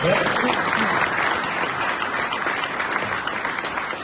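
An indoor audience claps together in a sustained burst of dense, even applause that fills the space throughout and fades only slightly toward the end.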